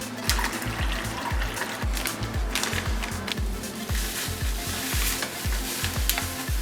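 A pot of water holding pasta from a vegetarian MRE ration bubbles as it heats, with rapid, dense boiling pops and gurgles that are loud and close and carry on steadily, with no talking.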